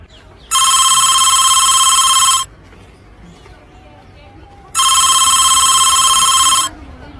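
A telephone bell rings twice, each a bright continuous trill lasting about two seconds, with a quiet room murmur in the pause between rings.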